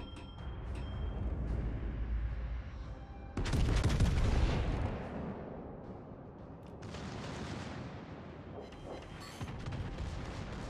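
Warship guns firing in World of Warships: Legends, a heavy booming salvo followed by rumbling explosions and a second barrage, loud and dense, with no speech.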